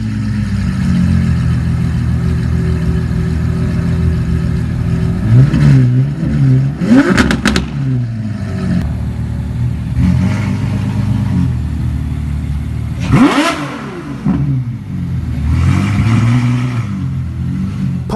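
A Ferrari one-off barchetta engine revs loudly and repeatedly, its roar climbing and falling in sharp blips with steady rumble between, close and alone without talk.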